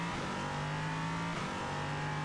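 A naturally aspirated V8 in an LMP3 race car, heard in a racing video game, holds a steady, loud engine drone with a slight dip in pitch midway, with no talk over it.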